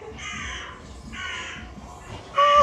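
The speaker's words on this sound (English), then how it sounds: "Oh, it's crows." Several loud, close crows caw in a steady sequence of harsh calls inside a haunted house attraction, with no speech over them.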